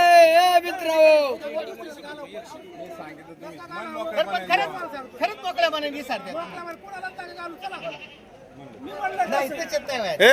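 Goats bleating at a busy livestock market in Shirur, Pune district: repeated wavering bleats rise over constant crowd chatter and nearby talking.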